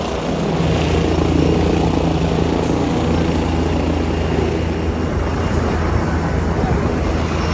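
A helicopter landing at a helipad at a Jubilee Hills institute in Telangana, its loud, steady rotor and engine roar filling the whole clip close by without a break.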